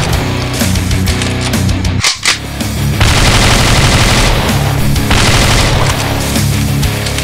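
Sustained machine gun fire from the 2D game Slendytubbies 2D Revolution, rapid and loud, with a short break near the middle before the bursts resume and run steadily to the end.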